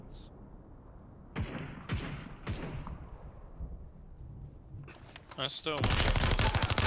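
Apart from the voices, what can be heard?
gunshots in the video game Super People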